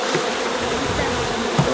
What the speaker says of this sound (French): Il reste encore des abeilles.